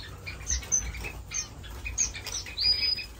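Society finches, star finches, waxbills and other small birds in an indoor bird room, a busy chorus of high chirps, squeaks and short whistles with fluttering and rustling underneath.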